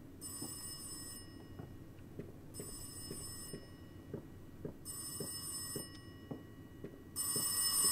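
A telephone rings in the horror video game Rise of Insanity, four bright repeated ring bursts with short quiet gaps between them, set over a low ambient background with no speech.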